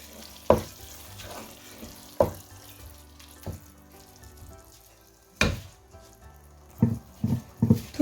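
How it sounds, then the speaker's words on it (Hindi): Bihari keema mince fries in a pan with a soft steady sizzle while a spoon scrapes and clanks against the metal in irregular stirring strokes. "मिक्स कर लेंगे कीमे को।"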